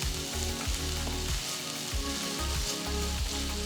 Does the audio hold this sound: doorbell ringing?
no